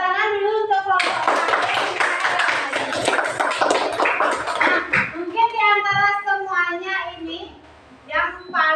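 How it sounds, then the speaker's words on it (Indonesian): A classroom of fifth-grade children applauds, with dense clapping from about one to five seconds that fades into excited children's chatter and a teacher's voice. "tepuk tangan dulu untuk kelompok terakhir"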